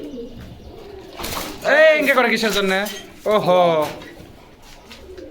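Sirazi pigeons coo softly in the background while people talk loudly and a voice exclaims close by, the birds mostly buried under the conversation.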